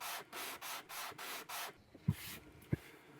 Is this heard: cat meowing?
no